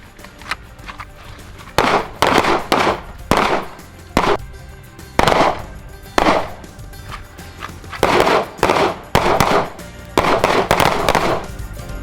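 Handguns fired on an outdoor shooting range: many shots crack out loud and close in quick clusters, with short pauses between the strings of fire. Several shooters seem to fire at once.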